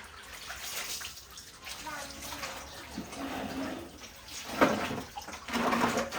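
Water running from a tap into a basin holding fish, a steady close splashing rush that swells louder toward the end, with voices talking over it.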